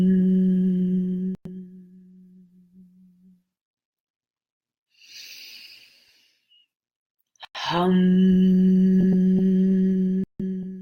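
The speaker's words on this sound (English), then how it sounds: "the hum part comes on the exhale" Sustained, steady hummed tones on the exhale during a guided meditation, two long voiced hums separated by a quiet pause and a soft breath, close and clear.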